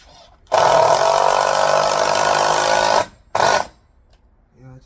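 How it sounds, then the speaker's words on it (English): A power drill drives screws into a wooden garden bed frame outdoors, one long loud whirring run followed by a short second burst, then quiet. "just getting two screws to hold this thing as sturdy as possible"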